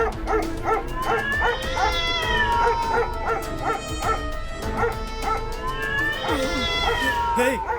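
Several cats meow and yowl repeatedly, with dogs barking and yipping among them, a noisy, overlapping chorus close by.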